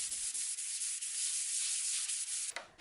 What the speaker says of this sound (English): And then I scuffed the surface with 220 grit.